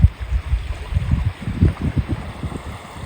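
Cold winter seawater around an iceberg in Greenland, lapping and sloshing in soft irregular low pulses, close by and fairly quiet, with light wind noise and no speech.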